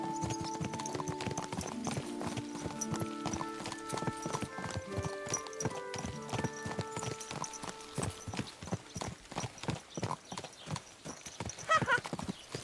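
Horse walking in Kingdom Come: Deliverance II, steady clip-clopping hooves close by with a brief whinny, over quiet game ambience.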